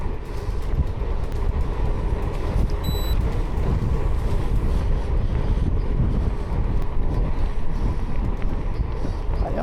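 Strong headwind buffets the microphone in a continuous low roar while a gravel bike is ridden toward Beaugency, with a brief high electronic tone partway through.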